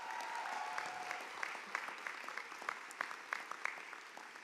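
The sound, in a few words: audience applause at commencement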